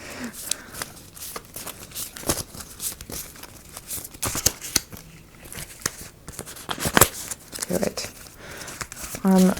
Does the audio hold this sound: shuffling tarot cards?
yes